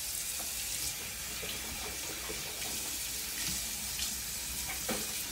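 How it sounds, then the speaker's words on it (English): Warm tap water runs steadily into a bathroom sink for rinsing the mouth after a teeth-whitening routine, a continuous even hiss with no talking. "So now you're gonna rinse your mouth out with a little warm water."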